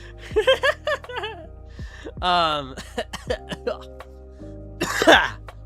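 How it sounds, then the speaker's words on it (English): A person coughs and clears their throat several times in short bursts between bits of speech, close and fairly loud. "this cough is taking me out"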